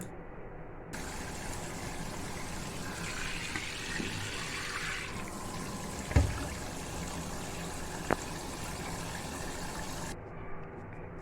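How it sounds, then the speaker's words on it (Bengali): Katla fish rinsed under a running kitchen tap, a steady close splashing stream of water with a couple of soft knocks against the sink, no talking. "প্রথমে মাছটিকে জল দিয়ে ধুয়ে পরিষ্কার করব"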